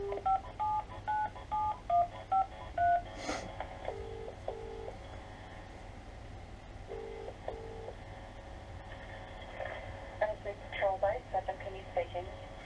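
DTMF keypad tones dial a call to a police station in Wellington or Ellerslie, a series of short two-tone beeps in bursts at the start and end, with ringing and phone-line sounds in between and a voice faintly under it.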